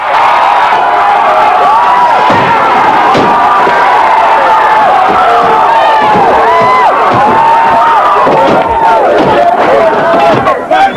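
A protest crowd gathers at Parker Center during the LA riots, loud and continuous with shouting, whoops, cheering and overlapping voices, plus occasional bangs.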